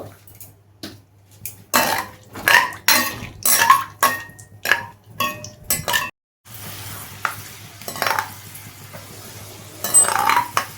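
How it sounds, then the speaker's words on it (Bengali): Peanuts sizzle and rattle as they fry in a hot pan, with repeated scraping and clinking of a spatula against metal, close and fairly loud. "এরপরে কিছুটা পিনাট ভেজে দেব ভেজে নেব"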